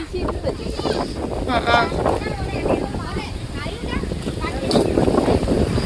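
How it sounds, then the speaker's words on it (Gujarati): Steady wind blowing across the microphone, a continuous rushing breeze with voices talking underneath throughout. "રોજ આવો દેશી વાયરો ખાવા તો મળે"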